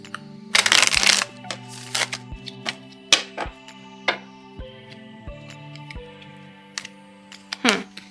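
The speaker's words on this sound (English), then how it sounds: "I feel like I need to shuffle that one more time." Oracle cards from the Sacred Geometry Oracle deck being shuffled in several quick riffling bursts, with crisp taps and clicks between them, close up and fairly quiet, with a faint steady tone underneath.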